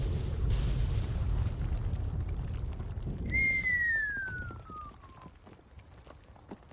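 A deep, booming explosion in the Fallout 3 video game rolls out over a few seconds, followed by a falling whistle-like tone as the rumble fades into quieter ambience.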